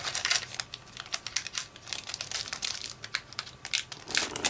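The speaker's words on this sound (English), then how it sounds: "I picked up 5 more packs and I'll open them right now" Foil wrappers of Legacy of the Valiant trading card booster packs are torn open and crinkled nearby, a steady run of sharp crackles and rustles with no talking.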